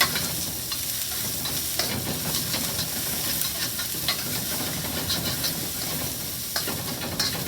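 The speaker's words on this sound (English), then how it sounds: "You stir fry that up." Celery and scallion bottoms are stir-fried over very high heat in a flat-bottomed wok, a loud close sizzle with steady hiss and repeated scraping tosses, no voices.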